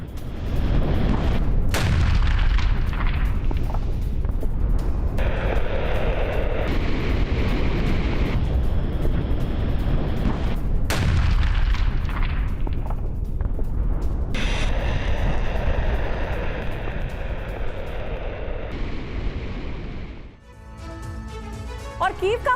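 Heavy FAB-500 bombs dropped by Su-34 jets on a frontline in eastern Ukraine, exploding as loud, deep booms with long rumbling tails, repeated several times over sustained roaring noise.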